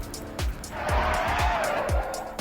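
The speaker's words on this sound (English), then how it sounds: "What about drifting?" A car in the game Car Crushers drifts, its tires squealing in a sustained screech over a steady engine drone, with repeated thumping pulses underneath; no one talks.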